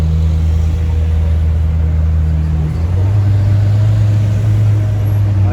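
McLaren Senna LM sports car moving through Paris traffic, a loud, deep steady engine drone close by that steps to a new pitch partway through, with a low rumble and no talk over it.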